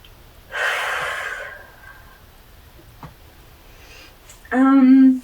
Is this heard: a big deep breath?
yes